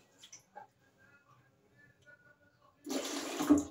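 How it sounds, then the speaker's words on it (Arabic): Water pours into a glass jar used for making mixed pickles, arriving as a sudden, steady splashing gush after a stretch of faint clicks and small kitchen noises. "وطبعا هحط الاول شويه ميه، شويه ميه عشان انا هدوب الشطه في قلب البطرمان"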